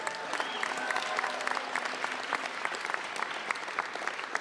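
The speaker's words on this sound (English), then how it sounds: "How about a round of applause for all of them?" An audience applauds at the NFL Draft handoff ceremony in Green Bay, producing a sustained, even round of clapping from a sizable crowd that carries on for several seconds without a break.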